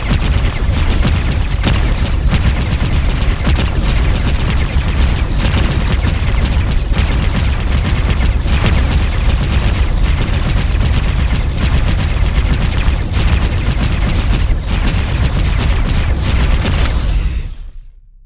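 Ship weapons fire in a space combat game, X4: Foundations, aimed at a heavy fighter: dense continuous gunfire and booming hits stay loud for about seventeen seconds, then cut off abruptly.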